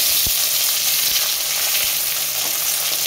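Onions fry in a pan for a white potato curry, giving a loud, constant hiss of oil with a couple of low knocks from the utensil.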